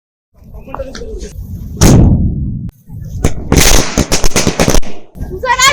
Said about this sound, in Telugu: నేను వెళ్ళి క్రాకర్స్ కాల్చుకుంటా